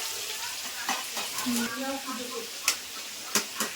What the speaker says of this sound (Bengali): এখানে ভোগে আলু ভাজা হচ্ছে দেখতে পাচ্ছি তোমরা